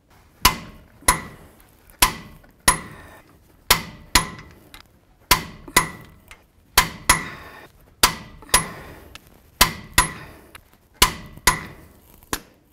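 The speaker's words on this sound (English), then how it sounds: "I want to torque these bolts to 188 foot-pounds" Brake caliper bracket bolts being torqued on a 2017-or-later Ford F-350 dually rear axle, heard as sharp metallic knocks repeating about twice a second, each clear and close with a brief ring, no talking.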